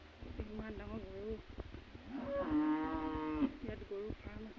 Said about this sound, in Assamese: ইমান ডাঙৰ গৰু